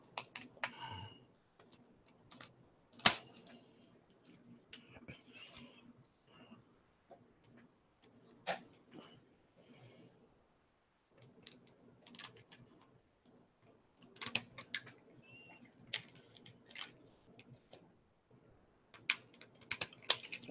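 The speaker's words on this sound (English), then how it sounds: "I'm going to go ahead and cut the top and then cut the side." Plastic comic book grading slab being cut open along the top and side, heard as scattered sharp clicks and snaps in irregular bursts, close and fairly quiet against near silence.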